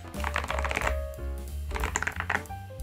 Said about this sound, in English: It has a deep thock and feels very similar to SA keycaps